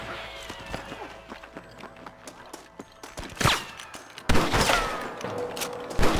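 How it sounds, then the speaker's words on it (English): Gunfire in the Red Dead Redemption video game: scattered sharp shots and bursts amid a busy scene, growing louder toward the end, with heavy bangs near the middle and later, alongside movement sounds. "I can hear more gunshots."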